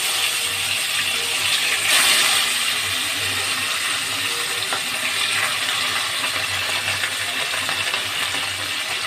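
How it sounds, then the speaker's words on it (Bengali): Fish pieces fry in hot oil in a home kitchen pan, a continuous bright sizzling hiss with faint clicks that holds steady from start to finish, with no voices. "এই মাছগুলোকেও আমি লাল করে ভেজে তুলে নেব।"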